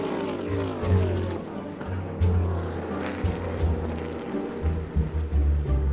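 Majeski's NASCAR truck, just after contact and a heavy hit, revs its engine in surging, uneven roars that rise and fall, heard with race broadcast commentary talking over it.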